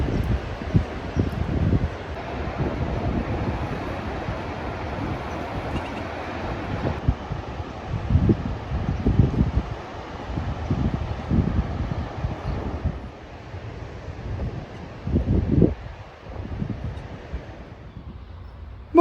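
Strong wind buffets the microphone in heavy gusts inside a garden shed, with low rumbling blasts rising and falling over a constant roar.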